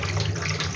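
Running tap water pours steadily over fresh mint leaves being washed by hand in a kitchen sink, a close, continuous splashing hiss with no talking.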